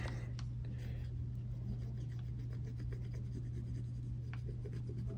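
A wooden stick rubbing a coin clean, a steady faint scratching scrape over a constant low electrical hum, with no voices.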